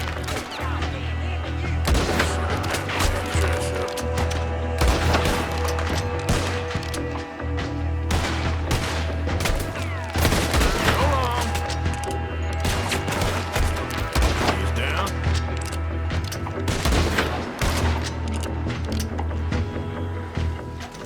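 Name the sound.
gunfire in the video game Red Dead Redemption 2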